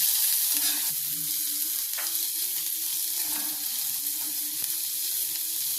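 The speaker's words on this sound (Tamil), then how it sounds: "போட்டுட்டு வெங்காயத்தை போட்டு பொன் வரலாம் வறுத்துக்கலாங்க." Onions with mustard seeds frying in oil in a pan toward golden, a steady close hiss of sizzling fat with occasional light scrapes and taps of a stirring spoon throughout.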